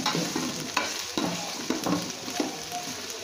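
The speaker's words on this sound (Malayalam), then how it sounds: "2 അല്ലി വെളുത്തുള്ളിയും 2-3 പച്ചമുളകും ജസ്റ്റ് ഒന്ന് ചതച്ചിട്ടിട്ട് അതും കൂടി നന്നായിട്ടൊന്ന് വഴറ്റി കൊടുക്കുക" Onion sautéed with crushed ginger, garlic and green chilli for a vegetable biriyani, a close steady sizzle with repeated rhythmic spatula scrapes and stirs against the pan.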